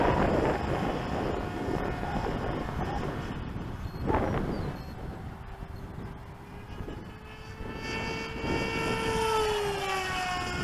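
Ultra-Z Astro RC pusher jet in flight at half throttle on a 3S battery, a steady electric motor and propeller whine that holds throughout and rises and bends in pitch as the model passes.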